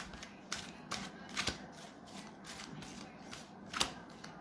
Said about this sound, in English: I'm shuffling the cards for Taurus